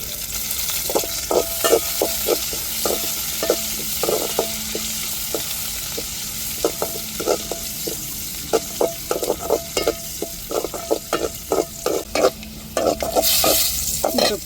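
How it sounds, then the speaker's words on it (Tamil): Curry leaves are stirred into a hot frying pan while cooking a tamarind rasam, giving a steady sizzle broken by repeated scraping strokes of a spoon against the pan, close and fairly loud, with no talking. "கருவேப்பிலை சேர்த்துக்கிருவோம்"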